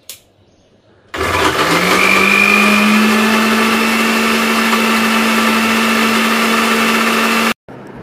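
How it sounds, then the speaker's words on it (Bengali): A kitchen blender grinding green chillies starts up abruptly and runs at a loud, steady high-pitched whir for several seconds, then cuts off. "আমি এখানে কাঁচামরিচটা আগে থেকে ব্লেন্ড করে"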